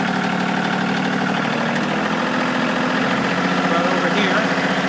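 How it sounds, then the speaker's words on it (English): A 2019 Kioti CK2610 HST compact tractor with a backhoe runs close by, its diesel engine droning steadily and rising slightly as the RPMs increase. "disengage the brake, increase the RPMs,"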